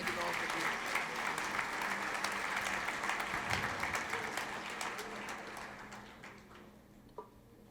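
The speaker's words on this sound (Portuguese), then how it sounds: "Vamos aplaudir Jesus por isso?" A conference audience claps together in a sustained round of applause that fills most of the stretch, then thins and fades toward the end with a few last claps.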